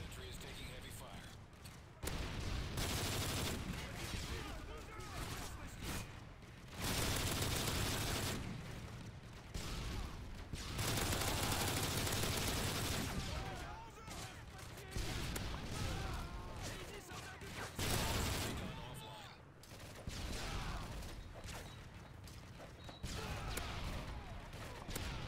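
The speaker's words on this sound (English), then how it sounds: "Sentry is taking heavy fire." Heavy automatic gunfire pours onto a sentry gun during a Call of Duty MW3 Survival wave on the Dome map, dense loud bursts with crashes and impacts repeating in waves, broken by brief lulls, with voices talking over it.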